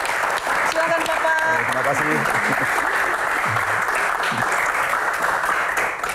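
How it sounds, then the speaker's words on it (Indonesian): A studio audience on a televised Q&A programme applauds the guest, Muhadjir Effendy, with a full, steady roar of clapping; a voice briefly sounds over the start before the applause continues alone. "kita berikan tepuk tangan untuk panglima mudik kita"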